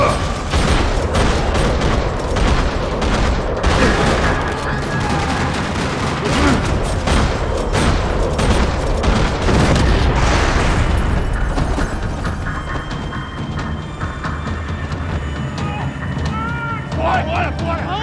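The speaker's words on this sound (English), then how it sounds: "Another parking lot rattling with gunfire." Rapid bursts of Max Payne 3 gunfire in a parking lot crackle loudly and continuously, with booming impacts, easing into a quieter rumble near the end.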